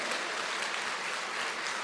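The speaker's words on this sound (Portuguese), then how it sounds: "isso merece uma salva de palmas" A church congregation gives a brief round of applause during a sermon, soft and steady, a quiet wash of clapping heard from a distance.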